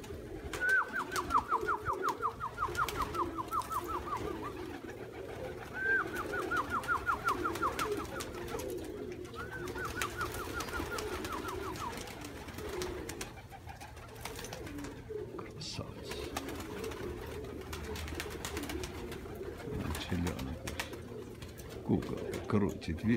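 Pigeons coo in a loft with low, throaty rolling calls, and three long warbling phrases come early over a murmuring flock. Someone talks over them throughout.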